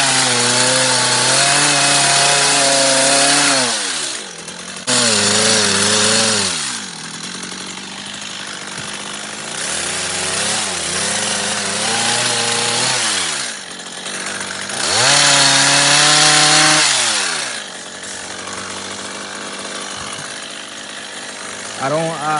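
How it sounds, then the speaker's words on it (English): A loud power edger runs around shrubs, its motor whining and revving in repeated surges and dips up close, with a voice speaking at times under the engine. "That's what it's called, an edger."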